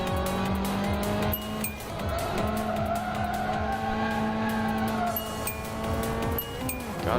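In a racing video game, a race car's engine drones steadily while its tires squeal through oversteer on a corner exit, a continuous, close and loud sound with no pauses.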